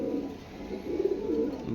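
Farm pigeons kept for sale coo close by in soft, low, throaty rolls that swell and fade continuously.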